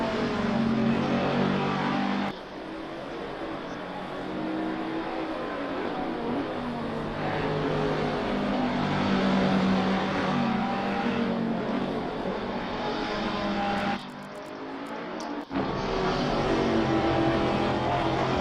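Ferrari and Bentley race cars circling Zandvoort in a racing game, loud sustained engine drone with shifting pitch as they accelerate, broken by two short gear-change dips before the roar resumes, no talking.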